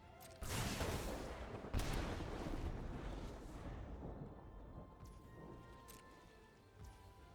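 A Lightning Strike spell effect in the MTG Arena card game, a loud crackling burst that opens sharply and then a second crash, trailing into a long rumbling decay with no talk.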